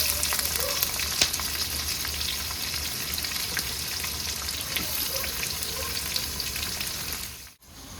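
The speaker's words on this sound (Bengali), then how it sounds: "150 গ্রাম পেঁয়াজ নিয়ে নিয়েছি, দিয়ে দেবো পেঁয়াজ।" Onions frying in a pan for a village-style mutton curry over a clay stove, a continuous dense sizzle heard up close, ending in a brief dip.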